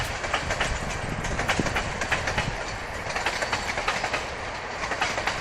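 A passing train rolls by continuously close at hand, its railcars giving a steady rumbling clickety-clack throughout, heard out on a walk with two pit bull dogs.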